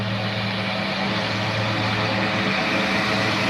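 A Luscombe light airplane with a 90 hp engine drones steadily and loudly, a continuous propeller and engine hum with no voices.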